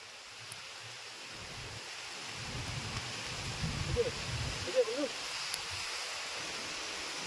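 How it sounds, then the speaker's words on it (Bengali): Stormy wind and rain sweep across an open village pond on a rainy day, a steady broadband rush with gusting swells, fairly faint and continuous without speech. "এ ঝড় চলছে রে, হাওয়াতে আকাশ।"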